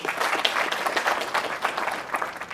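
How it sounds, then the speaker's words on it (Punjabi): Audience clapping at a Punjabi stage event where a singer asked for applause, a brisk, even burst of many hands from a mid-sized crowd lasting a few seconds without talk. "ਜੇ ਤੁਸੀਂ ਸੁਣਨਾ ਪਸੰਦ ਕਰੋਗੇ ਤਾਂ ਪਲੀਜ਼ ਤਾੜੀ ਮਾਰ ਦਿਓ"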